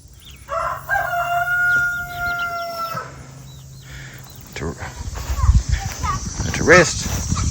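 A rooster crows clearly near the start, with harmonic calls, while chickens cluck and stir around a farmyard coop; later there is rustling, handling noise and more squawky calls, with someone speaking at moments.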